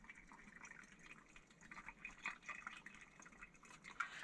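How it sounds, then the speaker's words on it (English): Very hot water is poured carefully into a silicone hot water bottle, a quiet, gurgling trickle of liquid filling the vessel with small splashes rising toward the end. "So you can take your very hot water, very carefully pour it into your bottle."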